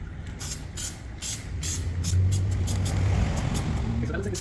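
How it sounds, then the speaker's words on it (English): Adhesive glue sprays onto a car door card for a Honda Civic reupholstery job, a few short hissing bursts over a low background rumble. "we're gonna give that a couple sprays"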